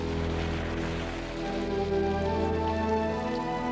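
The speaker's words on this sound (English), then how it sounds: "at last the cooling rains have come" Steady monsoon rain falls in Bombay and patters on surfaces, a continuous close hiss of drops.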